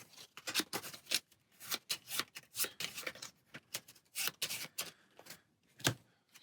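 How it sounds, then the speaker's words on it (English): A deck of cards from the Star Wars: Outer Rim board game being shuffled by hand, with repeated crisp riffling bursts that come in an uneven rhythm, close and clear with no talking. "shuffle this AI card back into the AI deck"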